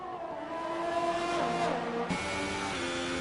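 Ferrari race cars in the F1 2018 video game roar down a straight, a loud continuous engine drone with shifting harmonic tones and a brief gear-change blip midway, steady throughout with no talk.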